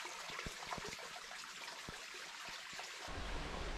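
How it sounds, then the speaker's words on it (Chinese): A small forest stream flows in a steady, close wash of water with scattered light splashes and ticks, on a hike through primeval forest at Laishui in Fangshan, Beijing; the rush thickens and grows louder near the end. "这旁边有个小水潭，这里形成了一个小溪。"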